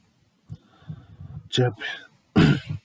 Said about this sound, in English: Sorry, just clear my throat